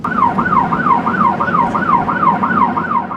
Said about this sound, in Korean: 새벽 6시, 조업 시작 사이렌이 울리고